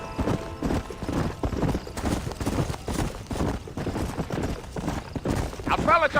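Horse hooves clip-clop steadily in the western video game Red Dead Redemption, heard close under continuous talking voices through the whole stretch.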